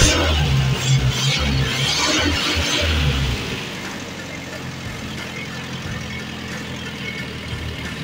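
A car engine runs after a rocker arm adjustment, a loud rumbling idle with a low hum for the first few seconds, then settling into a steadier, slightly quieter running drone.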